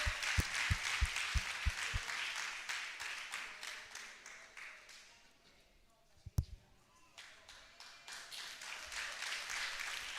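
An audience at a parenting symposium breaks into applause: a burst of loud, sharp claps up front, a lull with a single loud clap near the middle, then the clapping swells again toward the end.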